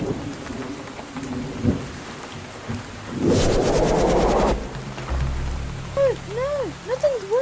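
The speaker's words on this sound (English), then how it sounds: "And the rain started even. I think a storm's on its way." Cartoon rain falls steadily while a thunder crack with a crackling burst sounds in the middle, followed by low rumbling and some whooshing wind-like tones near the end.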